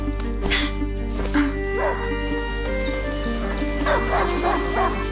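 Leon, a hunting dog in the game A Plague Tale: Innocence, barks in several sharp bursts over a steady musical backdrop, the barks fairly close and clear with short yips between them.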